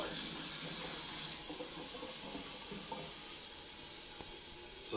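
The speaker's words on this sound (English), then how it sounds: "And then we add just hot tap water." Hot tap water runs hard into a container for giant bubble mix made with guar gum, a steady broadband rushing splash that holds at an even level throughout with no talk.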